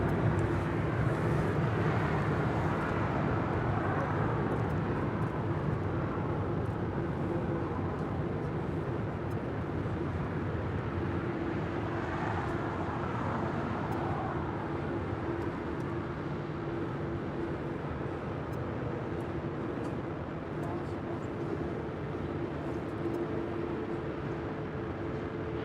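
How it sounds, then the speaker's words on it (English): American Boeing 777-200ER jet departing runway 25 right at LAX, a steady, broad roar of engines holding constant through the whole stretch with no talk. "Our next departure on 25 right is at American 777-200ER heading to Dallas, Fort Worth, Texas"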